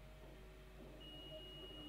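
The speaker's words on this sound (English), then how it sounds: "I can hear it beeping, and then the numbers change." A multimeter gives a thin continuous beep when the pedal switch on a Routemaster bus model kit is pressed, the tone faint against a quiet background hum and lasting roughly a second.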